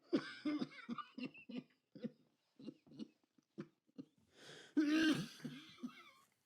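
A longtime smoker with advanced lung cancer coughs in a run of harsh, rasping bursts, close and fairly loud, with short pauses between fits and a heavier, wheezing cough near the end.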